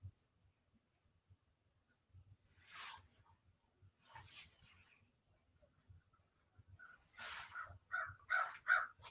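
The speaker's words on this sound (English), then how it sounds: "Can you hear the birds?" Birds calling outside an open window, a series of short, bright chirps and caws spread through the clip and clustering near the end, moderately close and alone with no talk.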